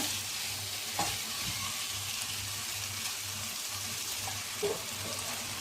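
Water poured into onion egg curry frying in a pan, giving a steady close sizzle with soft bubbling, stirring scrapes and a low pulsing hum underneath.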